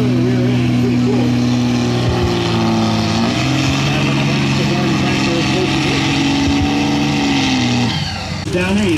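A garden tractor with a 1000 Suzuki motor and a Toyota rear end at a truck pull benefit event: a loud, sustained engine roar with slight shifts in pitch that drops off briefly near the end.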